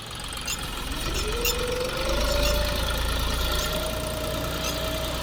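A John Deere 5075 tractor fitted with a silage loader runs at a steady idle. The engine gives a continuous low rumble and knock, with a faint whine rising partway through and no talking.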